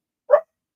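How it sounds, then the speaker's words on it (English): A single short dog bark, close and fairly loud, standing alone against silence. "Excuse my dogs, y'all. They think they might see something."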